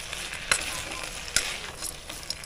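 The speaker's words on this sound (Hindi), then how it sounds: "तो इसी तरह से हिलाएंगे" Kafal berries, also called tasum, cooking and being stirred in a pan, a constant close sizzle broken by a couple of sharp utensil scrapes and lighter clicks.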